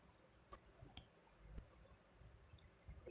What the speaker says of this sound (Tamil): இப்போ நம்ம வந்து ஆன் பட்டன் அழுத்தி ஆன் பண்ணுவோம்